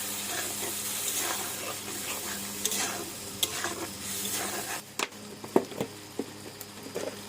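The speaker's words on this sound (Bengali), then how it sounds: "ভালো করে নেড়ে চেড়ে" Ground poppy-mustard masala cooking with tilapia in a pan, a close sizzle with steady stirring scrapes and several sharp taps and clanks of the utensil against the pan toward the end, without speech.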